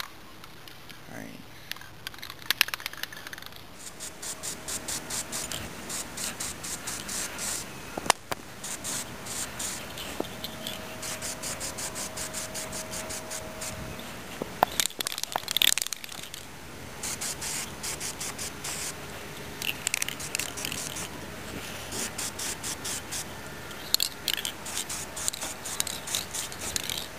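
Aerosol spray paint goes on as a second coat over the back fender of a Dirt Bug minibike: bursts of close, loud hissing, with a few sharp knocks and rattles between passes.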